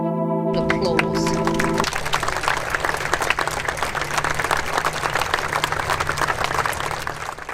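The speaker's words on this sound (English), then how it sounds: "Applause." Applause at an outdoor vigil in Southport after a fatal attack on a dance class; a brief musical tone fades as sustained clapping from a large crowd rises and continues steadily.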